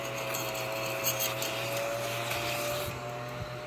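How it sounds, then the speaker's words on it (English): A small desktop vacuum sucks up cigarette ash, giving a steady, close electric whir with a faint rubbing scrape over its constant hum and no voices. "It's a desktop vacuum."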